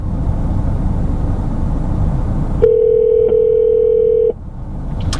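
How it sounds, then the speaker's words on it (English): A car's MyFord Touch hands-free system dials out over the cabin speakers: a steady electronic tone holds for under two seconds after a broad wash of road and engine noise cuts away, then the tone stops. "So it's dialing away"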